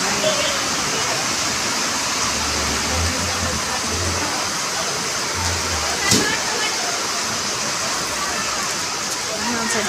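Dense, roaring rain pours steadily without pause, a broad wash of noise with a low engine hum briefly underneath.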